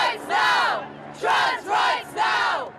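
Protesters marching through central London for trans rights, chanting in three loud rhythmic bursts, many voices shouting together in unison, close and forceful.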